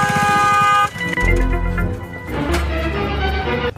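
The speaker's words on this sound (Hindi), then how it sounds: "अभी इसको 2-3 हारन ठोकता हूँ।" A car horn sounds one loud, sustained blast in traffic, followed by the rumble of a vehicle idling or moving nearby.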